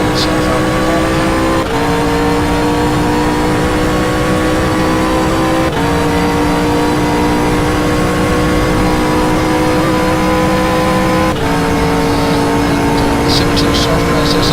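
A GT race car engine in the GTR racing simulator game holds a loud, steady high-rev drone, kept above 6,000 RPM, with several brief dips as it shifts gears.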